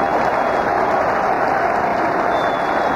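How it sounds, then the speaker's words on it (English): Huge stadium crowd giving a sustained ovation for Cal Ripken at a baseball game, a dense, steady roar of applause and cheering, loud and continuous with no breaks. "The ovation has gone more than eight minutes, and now the, the crowd is calling for him"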